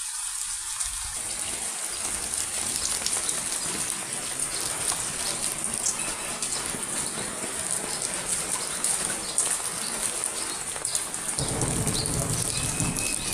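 Heavy rain pouring steadily over flooded village lanes, a dense continuous hiss and roar of downpour close by, with a slight rumble in the low end and no voices.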